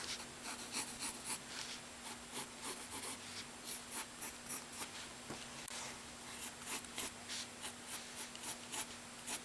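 Pencil or pen scratching over paper while sketching a manga-style sneaker's tongue, a steady run of quick close strokes and rubs with short rhythmic bursts, quiet and with no talking.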